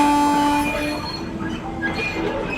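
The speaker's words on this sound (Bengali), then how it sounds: "কেদারের ট্রেন বেরিয়ে যেতেই" Train departing a station, used as a sound effect in an audio story: steady rumbling rail noise with wheel squeal and tonal hums, fading gradually over a couple of seconds, with no voices.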